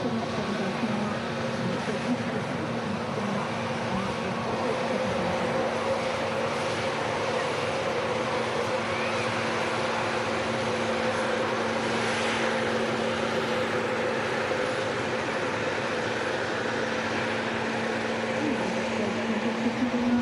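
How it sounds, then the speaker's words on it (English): An Airbus A320neo with Pratt & Whitney engines at Manchester Airport gives off a loud, sustained jet-engine roar with a steady tonal whine that holds for the whole stretch, and a voice speaks over it. "I can hear Pratt & Whitney's on board this"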